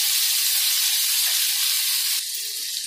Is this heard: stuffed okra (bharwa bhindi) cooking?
yes